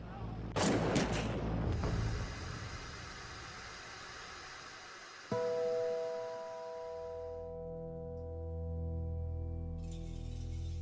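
Gunfire in archival film footage of a deadly shooting at an airstrip, a few sharp bursts near the start fading into noisy film hiss, followed by steady electronic tones later.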